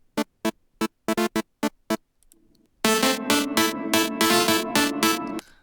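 A flat, unprocessed synth plays a run of short, evenly spaced stabs, then a gap, then a denser run of loud, bright chord hits that ring on. No one speaks.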